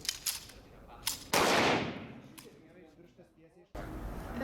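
Gunshots at a police officers' firing training, sharp loud reports with one especially heavy blast followed by a long decaying echo, alongside faint background voices.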